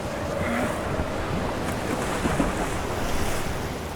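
Open ocean waves slosh and churn close by in a steady rush, mixed with gusty wind buffeting the microphone, without any talk.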